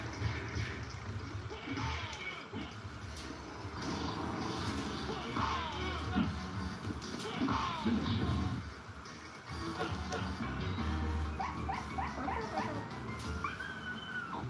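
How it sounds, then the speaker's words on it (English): A dog whimpers, yips and barks in short uneven bursts over about fourteen seconds, moderately close, with a continuous background hum underneath. "Puppy dog."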